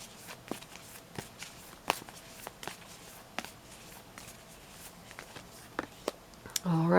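Tarot cards being shuffled and drawn give sparse light taps and flicks spread across the clip, quiet and close, ending in a louder rustle, with a person talking at times.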